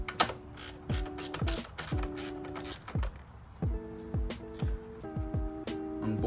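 A ratchet wrench loosens the rear brake caliper bolts on a 2023 Yamaha R1, giving close, rhythmic clicking bursts with short pauses between strokes.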